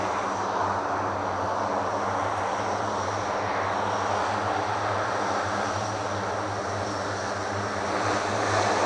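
The propeller engines of a C-130 military transport aircraft drone steadily for several seconds at an airport. The roar is loud and continuous, with a low harmonic hum and broad rushing noise and no talk.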